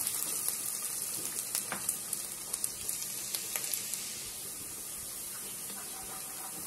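Onion frying in a pan gives a steady, close, bright sizzle and hiss that runs the whole time, with small pops and crackles scattered through it. No one speaks.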